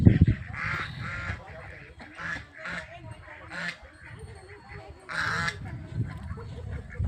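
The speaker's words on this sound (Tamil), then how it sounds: "வாத்து குளிக்குது" Repeated nasal honks and quacks come in bursts from a group of ducks bathing in water, fairly close and uneven in rhythm, with people talking alongside.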